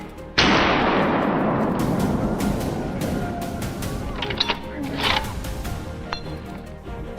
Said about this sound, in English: A crisp gunshot rang out the moment the target appeared.